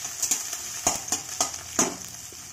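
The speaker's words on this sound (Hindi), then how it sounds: "अब इसमें हरी मिर्च डाल देंगे और हरी मिर्च को भी अच्छे से भूनेंगे" Green chillies fry in a pan over browned onions for a palak dal tadka. The sizzle is constant, and about half a dozen sharp clinks and scrapes of a spoon cut through it as the chillies are stirred.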